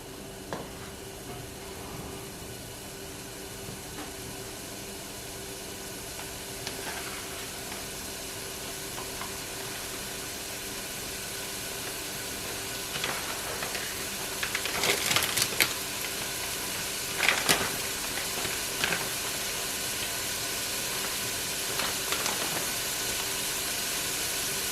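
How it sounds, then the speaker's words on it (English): Vegetables for lentil and sausage soup sizzle gently in a heating pot, a soft, steady hiss broken by a few louder crackles and pops. "So we'll just let that start to heat up and simmer, and that will get our veggies sweating."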